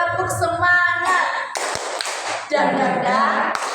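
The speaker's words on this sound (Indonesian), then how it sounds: "Tepuk semangat." A classroom group doing a rhythmic clapping chant, a few quick claps and taps mixed in with children's voices chanting and singing loudly.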